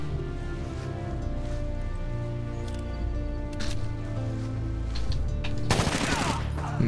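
Gunfire in the tactical shooter Rainbow Six: Raven Shield, with a few scattered shots followed by a loud, close burst of rapid fire over a droning game soundtrack.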